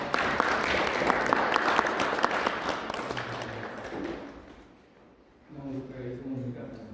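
Audience applause at an academic Buddhist literature seminar in a lecture hall, dense clapping for about four seconds that fades out, with talk starting again near the end.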